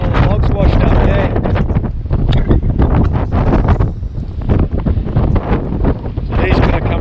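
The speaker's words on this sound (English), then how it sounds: "it's going to be a little bit windy out here" Strong coastal wind buffets the microphone in steady, heavy gusts on the exposed shore at the Edge of the World in north-west Tasmania, a loud continuous roar with no letup.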